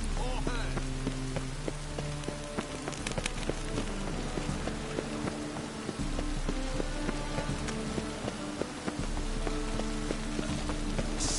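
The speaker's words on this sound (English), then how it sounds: "Rain again." Rain falls steadily as constant hiss in The Witcher 3, with horse hooves clip-clopping and a low music bed beneath, continuous throughout.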